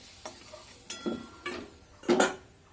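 Ground spice paste dropped into hot oil for a Bengali fish curry, giving a soft sizzle broken by several sharp utensil scrapes and clinks against the pan, close and fairly quiet.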